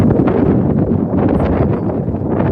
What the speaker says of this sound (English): It's a little windy. I might get blown away.